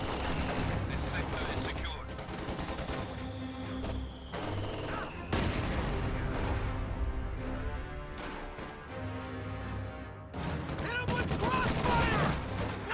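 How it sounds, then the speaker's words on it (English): Gunfire and mortar blasts from a strategy video game battle with infantry, anti-tank guns and mortars, heard as dense, continuous volleys of shots and booms, loud throughout with a few brief lulls, mixed with game music. "Mortar pounding away at the lieutenant."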